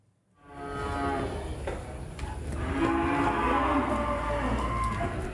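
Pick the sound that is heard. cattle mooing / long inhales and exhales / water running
cattle mooing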